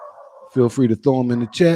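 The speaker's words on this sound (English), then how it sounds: "Excuse my dog barking." A dog barks a few short, sharp times close by, the barks falling in quick succession over a person talking to an audience.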